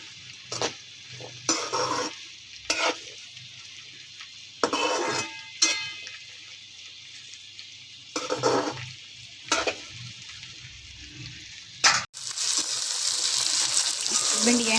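Okra frying in a pan for achari bhindi, a low sizzle broken by intermittent stirring scrapes and clatters, ending in a louder, steady hissing rush like running water, with no speech.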